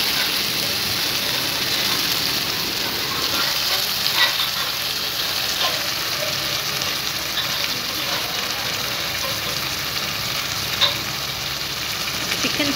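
Chicken frying in oil with sautéed onions for a chicken kuzhambu, a dense, steady sizzle close by throughout, like rain on a surface, with a few faint clinks and no talking.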